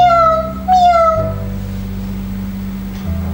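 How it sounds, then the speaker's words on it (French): A cartoon cat meows twice in quick succession, clear and close over a low steady musical drone, followed by a quieter background bed. "Et un chat faisait."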